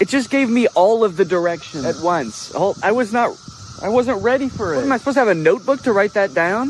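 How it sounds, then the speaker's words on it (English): Cicadas buzz outdoors in a steady, high, sizzling drone that runs under close, continuous talking. "It's the year of the cicada and they're everywhere."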